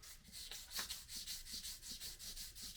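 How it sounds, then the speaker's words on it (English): Guitar fretboard being wet-sanded with 1200 grit paper and a little soap, a soft rhythmic rubbing that repeats in quick even back-and-forth strokes, close and quiet. "So now I'm just taking the 1200 grit, a little bit of soap,"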